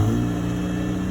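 A Honda Integra DA9 engine idles with a leaking exhaust, giving a steady, loud low rumble for about a second with no voices.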